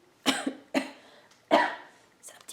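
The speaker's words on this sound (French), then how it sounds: "excuse-moi, j'ai une toux" Three sharp coughs in a row from one person, close and fairly loud, with a fainter throat-clearing rasp trailing at the end.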